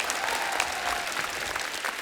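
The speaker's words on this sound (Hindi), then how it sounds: "जोरदार तालियां होनी चाहिए।" Enthusiastic applause from a TV comedy show studio audience, dense steady clapping heard from a moderate distance.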